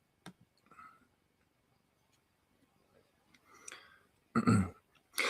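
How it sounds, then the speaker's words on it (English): A short, throaty burp erupts near the end, preceded by faint clicks and quiet mouth noises, close to the listener. "Excuse me, I'm burping."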